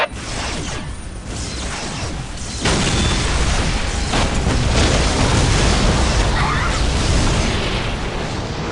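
Whirlwind artillery tank shelling in Warhammer 40K: Dawn of War, with continuous loud rumbling explosions and booms that swell heavier after a few seconds and carry on steadily throughout.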